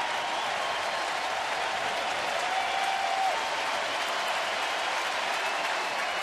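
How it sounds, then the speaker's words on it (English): Broad, steady applause from a baseball stadium crowd during a Cleveland at Cincinnati game as fans give a standing ovation, heard as a distant, even wash of clapping and cheering with no break. "Crowd will applaud the hustling Johnny Cueto"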